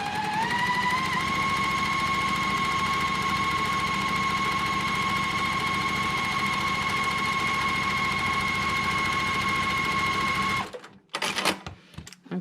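A sewing machine runs steadily, stitching quilt pieces together for about ten seconds in one loud continuous whir. It then stops, leaving a few short handling clunks.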